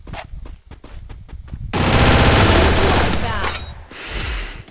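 A shooting video game fires at an enemy, starting with several sharp, separate shots and then breaking into a loud, sustained burst of rapid automatic gunfire that tapers off toward the end.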